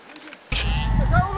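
A flock of sheep bleats close by on a farm as they are herded back into their pen after escaping, with a rising, wavering call that breaks in sharply after a brief quiet moment.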